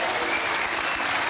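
Audience applause at a magic show, a dense, loud burst of clapping from a crowd that fills the whole moment.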